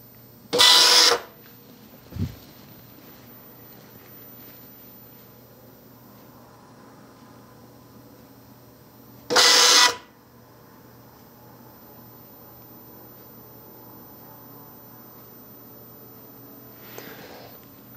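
A military UGC-74B teletype printer runs its self-test, giving two loud, short mechanical bursts several seconds apart, plus a faint click and a softer burst near the end, over a quiet hum.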